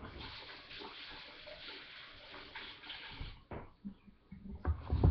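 Running tap water splashing over hands being washed, a soft continuous rush that breaks off midway into intermittent wet splashes and handling noises, fairly quiet and close, with no speech.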